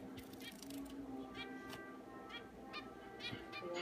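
A pet bird calls repeatedly while building its nest, a string of short bright chirps and honking notes over steady indoor background noise.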